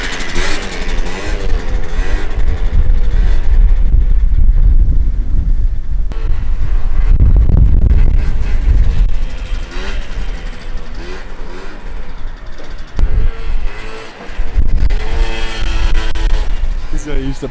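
A 50cc Honda Elite AF16 scooter is kick-started and revved, its engine rising and falling in pitch amid heavy wind buffeting on the microphone, with people talking nearby.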